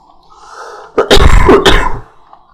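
A single loud, harsh cough bursts out close to the microphone during a Medieval Dynasty gameplay session, preceded by a faint breath and fading quickly.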